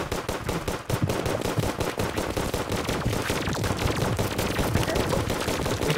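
Weapon gunfire in Terraria rattles out as rapid, continuous machine-gun-like shots, loud and close, running the whole time without a break.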